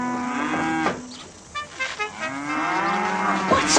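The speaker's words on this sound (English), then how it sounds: "We found some stolen cattle." Cattle moo loudly and close by, two long drawn-out lowing calls with a short pause between them.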